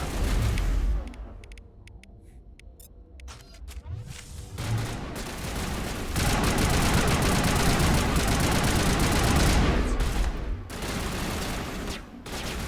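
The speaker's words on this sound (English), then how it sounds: "Why are you shooting the wall, dude?" Sustained automatic gunfire in the sci-fi shooter Mass Effect Legendary, rounds hammering a wall in a loud continuous fusillade with brief pauses and heavy impact crackle throughout.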